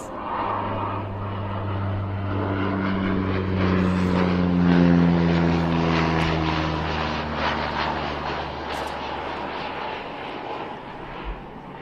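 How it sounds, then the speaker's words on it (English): A propeller aeroplane passes overhead above a women's football match, a loud droning engine that rises, peaks with a falling pitch sweep as it goes by, then slowly fades, with no talking. "Just waiting for this another aeroplane to pass."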